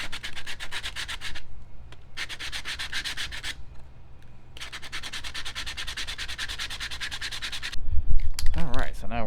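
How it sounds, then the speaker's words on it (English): Sandpaper rubbed by hand along the edges of a desk part in long, steady back-and-forth strokes. The rasping runs in close, even bursts with short pauses between passes, and nobody talks. "get started sanding the edges of this and trying to make it look a lot nicer"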